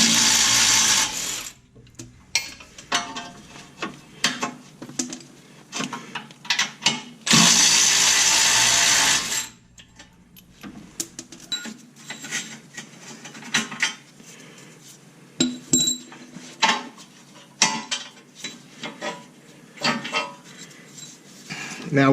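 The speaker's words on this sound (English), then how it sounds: "I'm using an adjustable wrench to hold the bolt on top, and a 21 millimeter socket on the bottom here" Torque arm bolts on a 1982–92 third-generation Camaro or Firebird are worked loose with an adjustable wrench and a 21 mm socket, giving close, repeated metallic ratchet clicks and clanks in uneven bursts, with a long steady rasp partway through.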